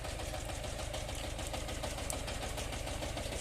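A tractor pulls a large plough through an orchard, its engine a steady, loud, close drone with a low knocking throb that holds unchanged throughout, with no voices.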